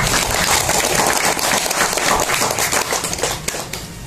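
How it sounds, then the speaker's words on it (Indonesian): Dense audience applause from a crowd gathered to hear a motivational talk, loud and steady throughout, with no voices over it. "Tepuk tangan buat para pejuang."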